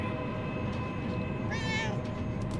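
A cat meows in the video game Murdered: Soul Suspect, one short rising-and-falling call in the middle over a steady hum of game background sound.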